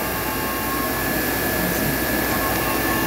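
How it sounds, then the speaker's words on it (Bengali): A digital die cutting machine used to cut paper boxes runs with a steady, loud, unbroken mechanical hum and whir. "এই হলো আমাদের die cutting machine, digital die cutting"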